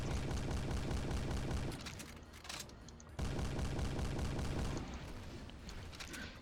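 Gorse rifle gunfire in the video game Lithium, dense and loud bursts of rapid shots that break off for about a second and a half, then resume strongly before thinning toward the end.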